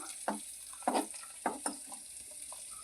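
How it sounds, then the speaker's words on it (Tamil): Food being stirred in a frying pan over a faint steady sizzle, with four or five distinct scraping strokes of the spoon coming at uneven intervals, close and moderately loud. "நல்லா கிண்டி வச்சுக்கலாம்"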